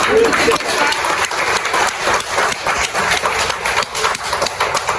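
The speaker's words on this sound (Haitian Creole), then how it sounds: "on nous applaudit" An outdoor crowd applauds steadily in a dense patter of claps, with talk carrying over the clapping throughout.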